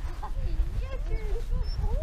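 A Bernese Mountain Dog puppy gives a run of thin, high squeaks like a guinea pig, close and fairly quiet over low background rumble.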